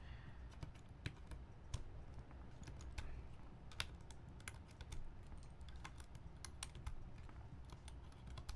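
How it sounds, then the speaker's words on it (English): Mechanical keyboard keycaps being pulled off one after another, giving sharp plastic clicks and snaps at an irregular pace over a low steady background hum, with no talking. "I'm gonna start pulling off keycaps because I know I don't want this on it"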